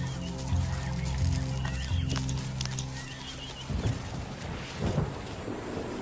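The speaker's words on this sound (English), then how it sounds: "As thunderstorms threaten to break the desperate grip of the dry season" Thunderstorm over the East African savanna, with a deep low rumble of thunder and a steady wash of rain, plus scattered bird calls in the background.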